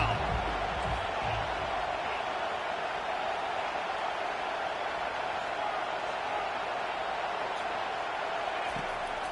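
A home crowd at a Penn State vs Tennessee football game roars on third down, a dense, steady wash of cheering held at an even level the whole time, with a commentator's voice faintly mixed in.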